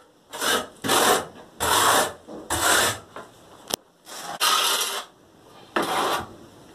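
AC3 tile adhesive is rubbed onto ceramic tile mesh in a series of about eight rough, rasping strokes, each a second or less, with short pauses and a light tap between them, close and clear with no talk.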